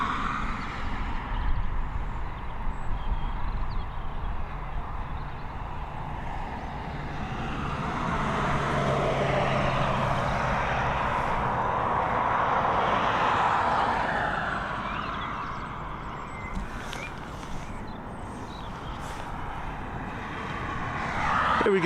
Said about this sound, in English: LX410, another Airbus A220 again, this time operated by Swiss, coming in from Geneva